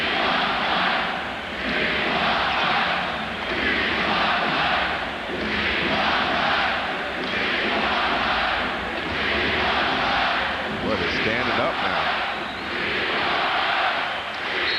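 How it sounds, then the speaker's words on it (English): Basketball arena crowd at Michael Jordan's final game in Washington, a loud sustained roar swelling and dipping in long waves of cheering. "And listen to the crowd"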